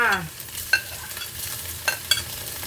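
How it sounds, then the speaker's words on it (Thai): Shiitake mushrooms stir-fried in a pan for a vegetarian fried rice dish, a soft sizzle with a few sharp scrapes of a utensil against the pan, quiet and close, with no talk. "ผัดเห็ดหอมก่อนจ้า ผัดให้หอมเลยนะคะ"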